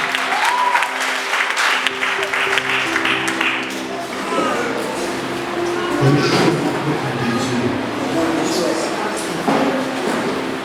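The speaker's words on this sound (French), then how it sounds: "Applaudissez le roi des rois" A church congregation at a Sunday service claps and applauds, a loud, sustained wash of clapping that runs throughout, with music or voices mixed underneath.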